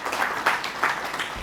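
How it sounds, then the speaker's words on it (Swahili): Audience applause at a Tanzanian council meeting, greeting the council chairman: a brief, moderately loud patter of clapping from a seated group, swelling in soft waves. "Makofi kwake tafadhali"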